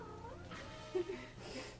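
A domestic cat meows a couple of short times, faint and close, over a quiet indoor background with game audio.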